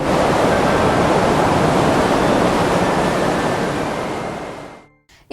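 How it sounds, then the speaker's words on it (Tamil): A giant wave about 20 metres high surges up a river, a loud, continuous roar of crashing, rushing water with no let-up. The roar fades away near the end. "அனைவரும் எதிர்பார்த்தது போலவே 20 மீட்டர் உயரத்திற்கு மிகப்பெரிய அலை எழும்பியது."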